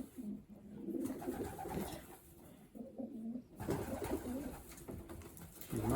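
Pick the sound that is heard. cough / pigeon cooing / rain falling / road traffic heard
pigeon cooing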